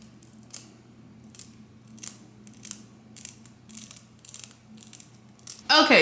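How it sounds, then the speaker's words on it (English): Scissors snip excess lace off a lace front wig in a string of close, crisp cuts at a steady pace, ending in a louder rustle. "So let's cut the excess lace off over here."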